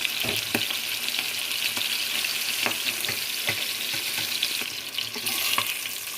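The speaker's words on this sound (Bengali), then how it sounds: "মাছটা দুপাশে ভাজা হয়ে গিয়েছে" Steady, close sizzling of pangas fish frying in hot oil, with occasional sharp crackles and a few clinks throughout; no voices.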